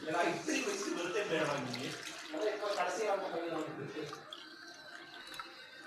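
Water, 1.5 cups, streams steadily into a pan for cooking semolina, a continuous splashing pour under someone talking, easing off near the end.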